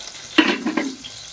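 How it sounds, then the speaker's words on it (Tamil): Spices fry in a pan for a jackfruit seed curry, heard as one brief stirring scrape over a soft sizzle lasting barely a second. "இது ஃப்ரை ஆகட்டும்."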